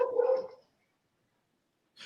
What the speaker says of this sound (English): this dog don't shut up